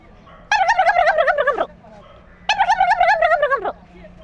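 A human voice imitates a turkey gobble in two loud, warbling bursts about a second long each, separated by a short pause, with no other sound around them.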